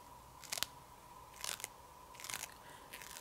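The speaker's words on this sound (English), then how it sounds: "There's, like, a very satisfying sound when you peel these stickers up." Planner stickers are peeled up off sticker paper in three short, faint crackling rips spaced about a second apart over a quiet background.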